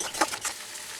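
Fresh tomato paste and spice masala fry in oil for a dhaba-style jackfruit curry. A brief, soft sizzle sounds with a couple of stirring scrapes, fairly quiet and close, with no voices.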